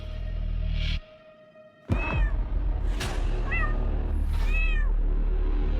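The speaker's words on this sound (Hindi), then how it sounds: "बिल्ली पाल रखी है आपने तो" A pet cat meows several times, up close and clearly, with drawn-out cries after a short pause, over a steady background hum.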